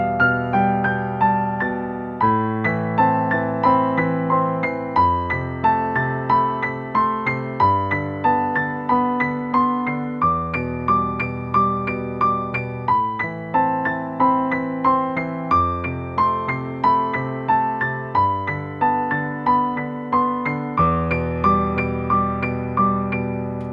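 A steady piano melody played solo, even notes stepping up and down in a repeating pattern with soft sustained chords underneath.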